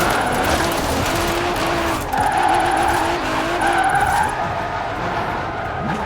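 A car drifts in Forza Horizon 4, tires squealing in long sustained screeches over a revving engine, with the squeal rising and breaking off in a few bursts before easing into steady engine drone.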